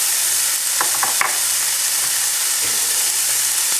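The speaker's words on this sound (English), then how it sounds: "Now I'm going to add all of the spices, starting with my turmeric powder." Turmeric and other spices frying in a pan, a loud steady sizzle close by, with a few brief scraping stirs early on and no talk.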